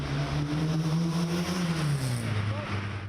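Vintage cars drive through Paris streets, a steady rumbling engine drone with shifting pitch as vehicles move past, under a voice talking.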